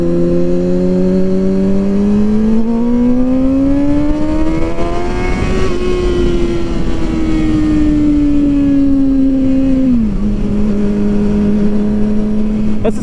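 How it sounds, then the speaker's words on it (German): A 600cc motorcycle with an open exhaust accelerates at about a quarter throttle, its engine note rising steadily, holding, then easing down and dropping sharply to a steady idle-like drone; loud and close, with wind rush throughout. "ich habe gerade ungefähr ein Viertel Gas gegeben. Das Ding schiebt absolut geisteskrank nach vorne."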